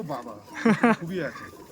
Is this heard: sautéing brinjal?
no